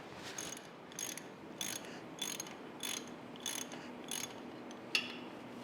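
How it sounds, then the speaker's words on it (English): A ratchet wrench tightening the bolts of a puller on a brake pin of an Allis-Chalmers D17 tractor, about eight evenly spaced bursts of rapid metallic clicking, close and clear, with no speech. "Just going to go ahead and snug these bolts down."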